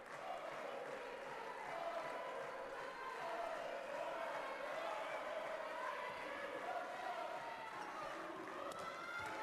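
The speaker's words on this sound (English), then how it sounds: "The crowd enjoying that one." A football stadium crowd at a Montenegro–Iceland match roars and cheers in a broad, sustained wash that swells slightly, heard from a distance with a commentator talking over it.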